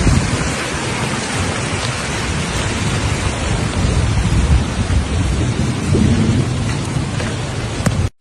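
Heavy rain pours steadily through a powerful thunderstorm in Gaziantep, Türkiye, with low thunder rumbling beneath the downpour. The roar stays loud and dense for the whole stretch, with no voices, and cuts off abruptly at the end.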